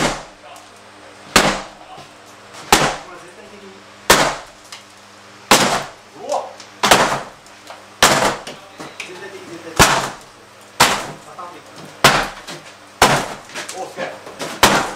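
Heavy, sharp impacts of a big hammer smashing an interior wall strike repeatedly at irregular intervals, each a loud broadband crack with short decay, with people talking between blows.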